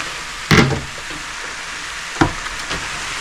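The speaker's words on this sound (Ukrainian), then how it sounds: "Посмажила фарш, ось зараз трошечки ще з цибулькою" Steady sizzling of minced meat frying with onion in a pan, with a couple of sharp clacks of a utensil stirring or scraping.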